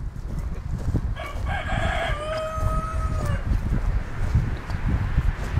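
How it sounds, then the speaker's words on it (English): A rooster crows once near beehives, a loud drawn-out call rising and falling over a couple of seconds, against a rumbling, windy outdoor background. "Noisy rooster."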